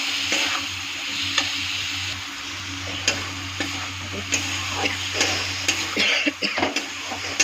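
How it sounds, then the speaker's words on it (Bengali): Chopped tomato frying in a pan for soybean bhaji sizzles steadily and loudly, broken by frequent scrapes and knocks of a stirring spoon against the pan. "আবার একটু ভালো করে ভাজা করবো।"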